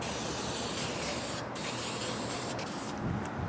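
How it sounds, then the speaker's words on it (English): A steady, broad hiss of an aerosol can spraying VHT primer onto a Pontiac 455 engine, sprayed continuously with a couple of brief pauses, close by and fairly loud. "We're gonna spray bomb it with some VHT primer."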